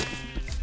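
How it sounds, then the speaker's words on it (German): Sheep bleat in the video game Minecraft, a short synthesized baa that comes through clearly and alone, over before a second has passed. "Ich muss die Schafe töten. Sorry, Schafe."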